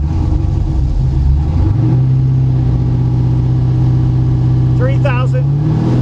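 Engine of a ducted-fan forced-air test rig rising from idle toward about 2,000 RPM, a loud steady drone that climbs in pitch partway through, with a brief whine near the end.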